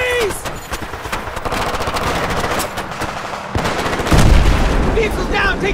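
Battlefield 3 campaign ambush in a wooded area, with dense bursts of automatic gunfire and a heavier blast near the end, mixed with shouted voices and battle noise.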